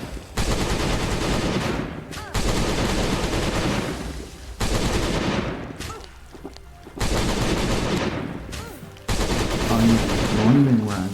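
Video game gunfire in Last Day on Earth, loud rapid bursts of automatic shots in several long volleys separated by short pauses, with a brief tonal game sound near the end.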